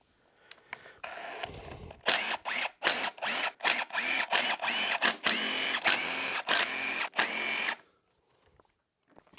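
Cylinder head bolts on a 2017 KX450F motorcycle being loosened with a power tool, a loud close run of rapid whirring bursts in quick succession that ends abruptly.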